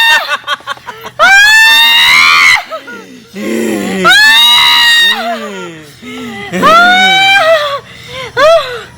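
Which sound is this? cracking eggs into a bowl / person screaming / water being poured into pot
person screaming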